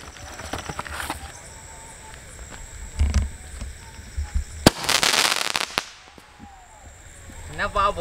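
A seven-shot firecracker fires a series of sharp bangs and whooshes, the loudest near the middle, with a brief whistle and quieter pops around them.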